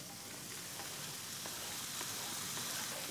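Vegetables and tomatoes fry in a pan with a dense, even sizzle that carries on unbroken, and a few faint stirring scrapes are just audible under the hiss.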